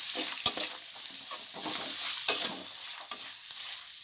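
A spoon stirs turmeric into sizzling oil for poha upma, scraping and clinking against the pan in quick strokes over a steady frying hiss, close by with no voices.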